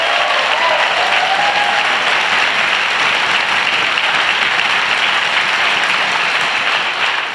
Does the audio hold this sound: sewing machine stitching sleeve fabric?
no